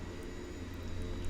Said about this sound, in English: this Twin Otter does not take a lot of runway for takeoff or landing